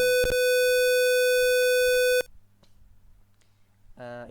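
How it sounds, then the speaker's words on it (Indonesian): A loud, steady electronic buzzer tone sounds for about two seconds with a few clicks, then cuts off to quiet before a short burst of another tone. "lampu LED menyala dan buzzer pun menyala."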